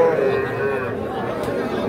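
Calves, young bulls and heifers being bought and sold at the Ambari livestock market in Parbatipur, Dinajpur, heard as a steady outdoor din with occasional lowing mixed into constant crowd chatter and nearby talking.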